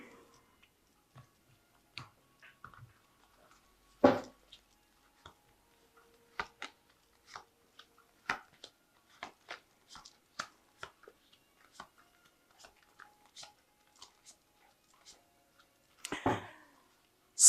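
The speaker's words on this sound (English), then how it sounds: "So I have shuffled this deck. I'm just going to cut it." A tarot card deck is cut and shuffled close up, with scattered soft taps, flicks and papery clicks, irregularly spaced and fairly quiet, with a couple of louder rustling bursts.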